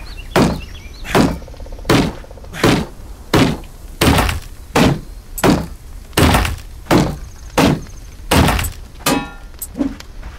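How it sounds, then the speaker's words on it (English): Crowbar striking and smashing objects in Dysmantle, about fourteen sharp, loud thunking impacts in a steady rhythm roughly every three-quarters of a second, some with breaking, glassy debris, and no talk. "Press X to strike and destroy objects."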